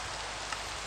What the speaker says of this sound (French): Ah, il pleut comme il pleut chez nous.